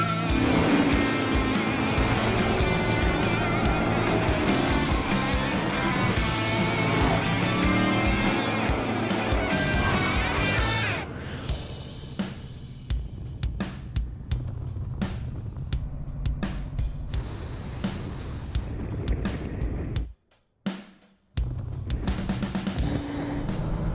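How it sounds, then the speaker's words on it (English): Loud music dominates at first, then a 1970 Ford Mustang engine rumbles and revs unevenly while driving, with brief drops in sound near the end. "I'm out and about behind the wheel of an old school muscle car"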